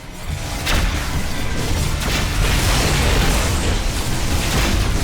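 Missile explosions in the space combat game Rebel Galaxy roll in as a loud, continuous rumbling boom, with several heavier blasts swelling over a dense low roar that never lets up.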